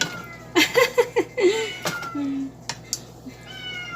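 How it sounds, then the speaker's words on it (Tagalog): Pet cat meowing near a kitchen stove where chicken tinola with liver is cooking, several short rising calls in a row, moderately close, over faint background hum. "yung pusa ko, yan nag-iingay"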